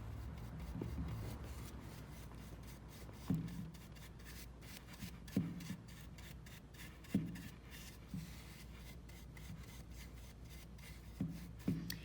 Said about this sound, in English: to dry brush some French gray back over the metal leaf